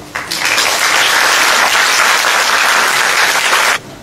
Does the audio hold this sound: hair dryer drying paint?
no